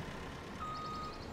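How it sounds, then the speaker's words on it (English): A vehicle reversing in Farming Simulator gives a faint, evenly spaced series of short electronic beeps over a low engine rumble. "Reverse. I am reversing."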